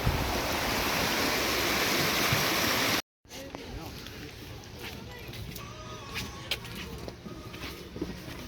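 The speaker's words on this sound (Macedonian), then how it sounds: "Ова се изворите кои се влеваат на Охридското езеро" Spring water rushes in a loud continuous roar as it flows into a river near Lake Ohrid, then after a cut a quieter stream burbles with light splashes and a voice speaking.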